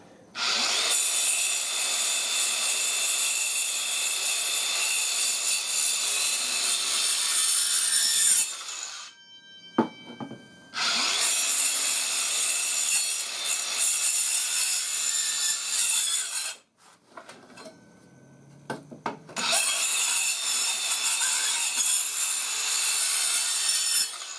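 A DeWalt Atomic compact battery circular saw makes three loud, sustained straight cuts into 45 mm thick timber, each several seconds long, separated by short near-silent pauses with faint clicks.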